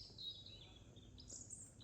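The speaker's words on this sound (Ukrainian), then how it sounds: "Сидять пташечки и співають." Small birds sing in a forest on a Greek island, several high chirping calls fairly faint against a low background rumble.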